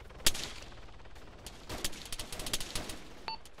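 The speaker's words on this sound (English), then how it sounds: "Two's under heavy fire." Heavy gunfire during a squad firefight, several sharp shots followed by a rapid scattered string of crackling bursts, fairly distant and moderately loud, with no talk.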